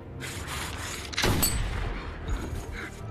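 A single sniper gunshot in the war film Peace (2019), a sharp booming crack midway through, rising out of a low rumbling background.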